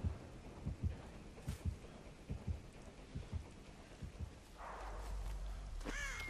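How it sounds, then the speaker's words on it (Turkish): A heartbeat thumps in the horror video game Dead by Daylight, soft low double beats pulsing at a steady rhythm, later joined by a rising rumble and brief rustling noises. "Hemen oyuna girer girmez kalp atışlarımı seslerini duyabiliyorum."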